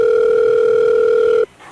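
An incoming call on a telephone sounds as a steady, loud electronic tone held close for about a second and a half before cutting off abruptly, with no voices.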